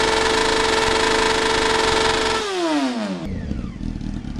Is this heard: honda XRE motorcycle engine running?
yes